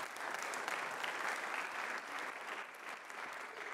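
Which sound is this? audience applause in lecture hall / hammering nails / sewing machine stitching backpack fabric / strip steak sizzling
audience applause in lecture hall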